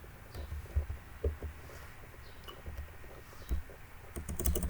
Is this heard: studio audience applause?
no